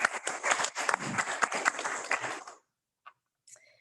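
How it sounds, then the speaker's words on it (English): Applause from a school board meeting audience: a dense, steady patter of clapping that lasts about two and a half seconds, then stops abruptly, leaving near silence with a couple of faint stray sounds. "I think we should applaud that."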